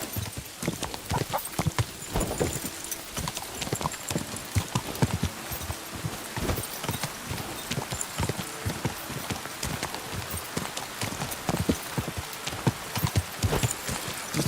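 Horse hooves clip-clop steadily in the medieval game Kingdom Come: Deliverance II, a continuous rapid gallop rhythm at moderate level over a noisy background resembling rain.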